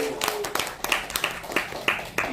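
An audience at a lecture claps in short, uneven bursts of light hand claps that rise and fall, heard close over room noise.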